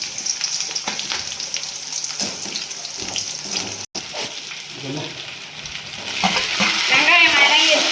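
Mustard seeds, shallots and green chilies tempering in hot oil, a loud crackling sizzle with popping seeds and stirring scrapes that build more intensely in the last seconds.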